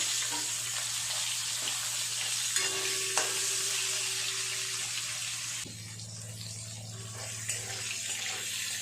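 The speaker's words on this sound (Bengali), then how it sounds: "উল্টে পাল্টে পটলগুলো দুপাশ খুব ভালো করে ভেজে নেব।" Pointed gourd pieces frying in oil in a pan after fish was fried in it, giving a steady close sizzle with occasional stirring scrapes; the hiss shifts and deepens partway through as the pieces are turned.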